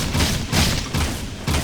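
Gunfire from a weapon in the video game Jak II: a rapid series of punchy, loud shots at a steady rhythm, roughly two bursts per second, filling the whole moment.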